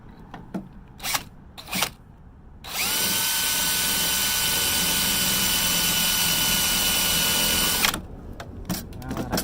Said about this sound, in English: then we'll pop the second drill hole in there